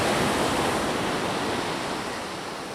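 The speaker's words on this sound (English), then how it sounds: "Walking up down the beach now, just kind of exploring." Surf washes steadily onto a beach on the Kalalau Trail along Kauai's Napali Coast, a dense continuous roar of breaking waves that fades slightly over a few seconds, with no voices.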